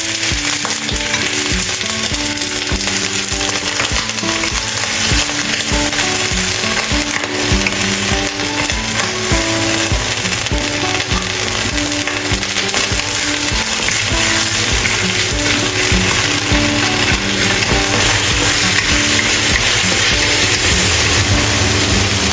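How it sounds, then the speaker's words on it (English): Fish balls stir-fry in a hot pan with a loud, continuous sizzle and the steady scrape and clatter of stirring throughout, and no voices. "Stir-fry fish balls."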